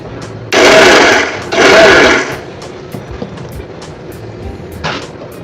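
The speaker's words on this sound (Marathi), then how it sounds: "ह्याला आता पटकन मिक्सरवर आपण फिरून घेऊया" A mixer grinder blends a peanut and fresh coconut chutney in two short, loud, close bursts of whirring motor noise, each about a second long, followed by quiet kitchen sounds.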